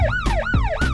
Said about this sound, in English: This police car siren is mine.